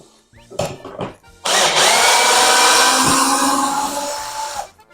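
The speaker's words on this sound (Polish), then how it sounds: "Dobra, wykręcę teraz sobie to." Power drill whirring steadily as it backs long screws out of a bathroom door during a renovation, a few short bursts then one sustained loud run of about three seconds, close up with no talking.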